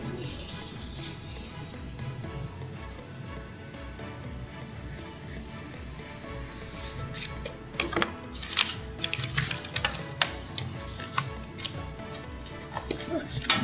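Cutting out a section of a horn receiver, likely with a hand saw or cutter, as a low grinding drone runs steadily and then sharp clacking, scraping strokes break in near the end, irregular and fairly loud.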